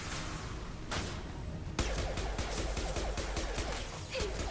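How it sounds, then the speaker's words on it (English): Rapid bursts of gunfire from the sci-fi shooter game Mass Effect 2, a dense string of loud shots running throughout with a sharp burst midway. "Firing a high impact shot"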